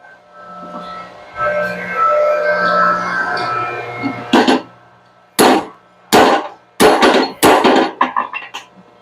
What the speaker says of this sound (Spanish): Vamos a quitar, a tratar de quitar este buje, este tornillo.